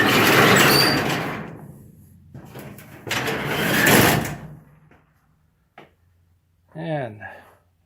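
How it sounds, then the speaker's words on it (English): A garage door runs down and closes onto a newly bolted bottom plate, with two long rumbling motor passes followed by a short knock and quieter trailing sounds near the end. "let's see how the door closes on it."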